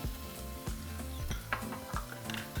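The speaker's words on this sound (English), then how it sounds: "we're going to add 1 pound of lean ground beef. We're going to add 2 minced garlic cloves." Lean ground beef and minced garlic sizzle in a pan, with a steady frying hiss under repeated scrapes and stirs of a utensil against the pan.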